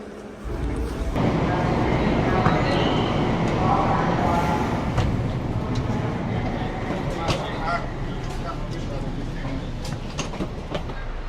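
A subway train rumbles steadily inside a metro station, a broad continuous roar with faint clicks and occasional high squeals, loud throughout and mixed with background voices.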